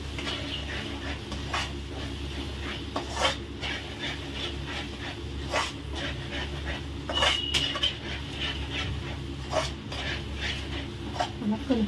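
A spoon scrapes and clinks against a pot while curry is stirred, in an irregular rhythm of metallic knocks. Quiet kitchen background runs under the stirring.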